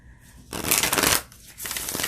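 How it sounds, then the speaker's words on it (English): A deck of cards is riffle shuffled twice, a crisp fluttering rush of flicking cards, close and fairly loud with a short pause between. "I'm going to try to riffle shuffle it"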